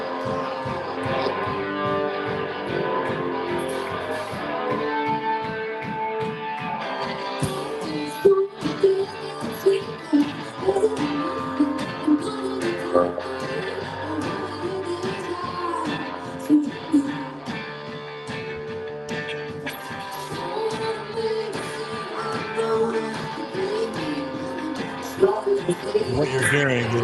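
A band performs a live set in the Cavern Club, captured on a phone: loud, dense full-band music with steady drum hits and sustained chords filling the room throughout, slightly distorted and crowded.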